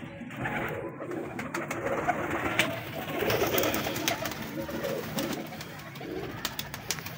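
Pet pigeons coo in a steady, low, murmuring chorus with scattered wing flutters and faint clicks, fairly close and continuous, with no talk.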